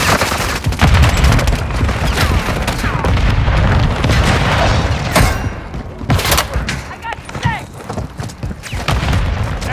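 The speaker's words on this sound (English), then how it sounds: "Tossing grenade!" A grenade blast in the Call of Duty Modern Warfare III video game booms amid dense, continuous gunfire and repeated thudding explosions, loud and chaotic throughout a hardpoint battle.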